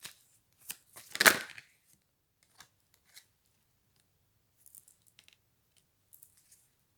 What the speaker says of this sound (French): Alors on me dit qu'on prend une dernière carte.